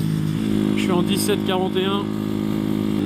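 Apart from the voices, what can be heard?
125cc Masai scrambler motorcycle riding on a main road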